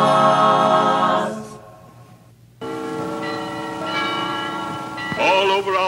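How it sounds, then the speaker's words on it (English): Church bells ring out in a steady, resonant peal, fading briefly to near silence before a fuller round of tolling returns and continues loudly to the end. "Yes, the bells are ringing."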